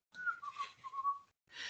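A storyteller whistles a short, wavering tune of several gliding notes, close and clear, imitating a character looking up at the sky, followed by a brief breathy hiss.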